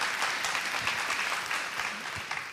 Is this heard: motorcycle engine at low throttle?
no